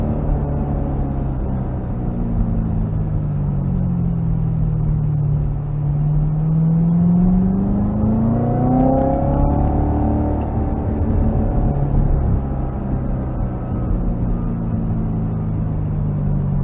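A Corvette Z06 revs and launches in a driveway, its deep engine rumble rising and falling through a sweeping rev, loud and close throughout.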